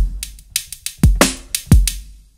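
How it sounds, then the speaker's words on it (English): Drum pattern from an 808 kit played on an MPC: several sharp hits with two deep booming kicks sliding down in pitch, crisp snappy transients between, close and punchy with no talk. "let's 808, which sounds like this"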